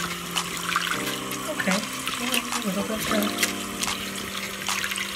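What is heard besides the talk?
konjac sponge being rinsed in water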